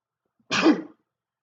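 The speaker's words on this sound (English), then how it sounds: "I'm going to sneeze." One short, sharp sneeze bursts out of near silence, close and loud, and cuts off quickly. Quiet surrounds it before and after.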